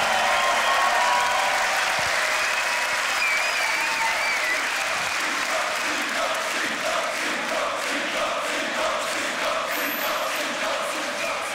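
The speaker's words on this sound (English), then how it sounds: "make some noise for Sinjo" A large crowd applauds and cheers at the Grand Beatbox Battle 2021 World League crew showcase, with loud, dense clapping that holds steady throughout and slowly thins toward the end.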